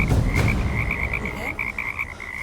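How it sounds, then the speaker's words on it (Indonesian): Several frogs croak in a dense, continuous chorus, with a steady pulsing trill repeating over low rumbling calls, loud and close throughout. "Kok jadi banyak katak, Pak?"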